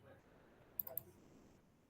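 A computer mouse clicks three times in quick succession, sharp and close, over quiet room hiss during work in circuit simulation software.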